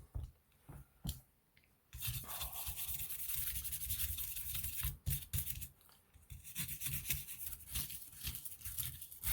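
Surface rust scrubbed off the chassis of a vintage 1950s Ruger MK1 .22LR pistol, with close, raspy rubbing strokes in bursts separated by brief pauses.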